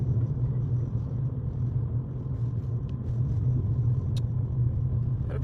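Steady low rumble inside a moving car, a constant road and engine drone with faint small knocks and clicks on top and no one speaking.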